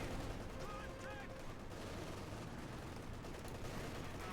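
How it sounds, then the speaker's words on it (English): Sturmpanzer bombardment in the video game Company of Heroes 2, a dense, continuous roar of heavy explosions and gunfire with no clear separate blasts, under a voice talking. "There's the Sturm Panzer bombarding"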